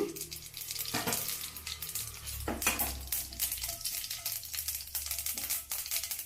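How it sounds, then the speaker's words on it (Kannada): Cumin and mustard seeds hit hot oil in a pan for an aloo palya, setting off a loud, steady sizzle with crackles and pops throughout, with no voices. "ಜೀರಿಗೆ ಸಾಸಿವೆ ಹಾಕ್ತಾಯಿದ್ದೀನಿ"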